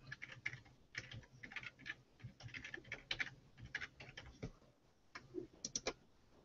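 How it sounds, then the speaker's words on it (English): Steady typing on a computer keyboard, with close, fairly quiet key clicks coming in quick irregular bursts and brief pauses, and no voice. "let's just type"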